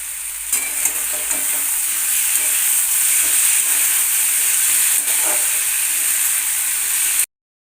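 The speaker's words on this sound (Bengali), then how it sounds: "এই সমস্ত মশলা দিয়ে কিন্তু আবারও আমি কষাতে থাকবো গ্যাসের ফ্লেমটাকে মিডিয়াম রেখে" Spices and sugar sauté in a pan over a medium gas flame while bony Hilsa fish-head curry with potato and pumpkin is prepared, giving a steady, close sizzle and hiss that runs without pause and cuts off abruptly.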